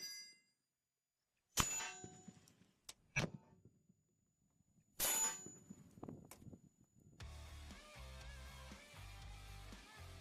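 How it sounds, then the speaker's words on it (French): An armor-piercing .50 bullet strikes an AR500 steel plate, sharp metallic clangs and impacts with a ringing tone, a few distinct bursts separated by silence, then a busy stretch of mixed noise. "la balle perforante l'a traversée sans problème"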